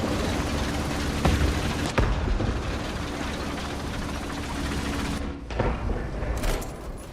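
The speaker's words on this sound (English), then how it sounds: "Hit it with machine guns." Machine gun fire in the War Thunder tank game, a dense continuous rattle of rapid shots with a few heavier bursts, loud and steady throughout over engine-like rumble.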